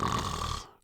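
A maid's loud, rasping snore in a read-along story, heard as a single drawn-out breath close by that fades away at the end.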